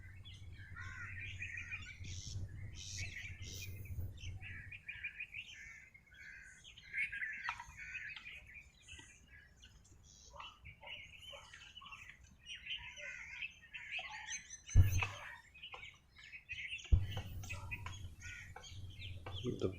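Small birds perched on a grafted plant among lawns chirp and call in quick, scattered bursts at moderate distance, with a steady low hum beneath and a couple of sharper knocks late on.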